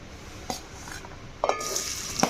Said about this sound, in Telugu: ఉల్లిపాయ ముక్కల్ని పచ్చిమిరపకాయలని వేసుకొని బాగా వేపుకోవాలి